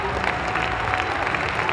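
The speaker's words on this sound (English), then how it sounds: "Big applause from the audience, of course." An audience at an Icelandic horse tölt final applauds in the arena, a close, loud, continuous clatter of clapping over a low rumble of crowd noise.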